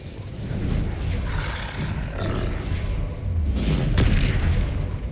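An Incendio fire spell bursts in Hogwarts Legacy, a loud roaring whoosh of flame with deep booming swells that build and peak near the end.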